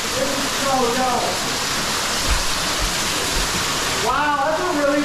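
Small waterfall flowing steadily with a continuous broadband rush of water, heard near and loud throughout, while people talk excitedly over it at the start and near the end.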